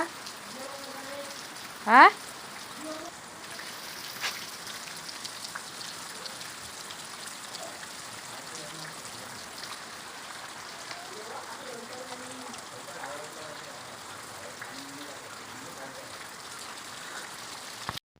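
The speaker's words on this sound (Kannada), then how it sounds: "ಮಳೆ ಸೌಂಡ್ ಬರ್ತಾ ಬರ್ತಾಯಿದ್ರೆ ಎಷ್ಟು ಚೆನ್ನಾಗಿರುತ್ತಲ್ವ ಸೌಂಡ್ ಕೇಳೋಕ್ಕೇ ಒಂಥರ ಡಿಫ್ರೆಂಟಾಗಿರುತ್ತೆ" Rain falls on houses with a soft, steady, faint patter and hiss. Low voices and a brief sharp chirp early on come through in the background.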